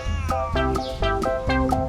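A cat meows repeatedly at a green snake outdoors, loud and close, with four drawn-out cries in steady succession.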